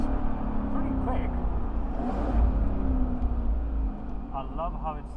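A 2021 Aston Martin Vantage Roadster driving in Dubai, its engine droning steadily with a brief swell around the middle, under constant road and wind noise, heard from inside the car while a person talks over it.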